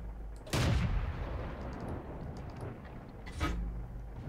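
A tank gun fires in World of Tanks with a heavy, booming blast followed by a rumbling tail, then a second, softer shot about three seconds later over steady engine ambience.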